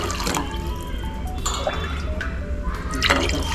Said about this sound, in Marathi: आता मी 4-5 पेले पाणी घालते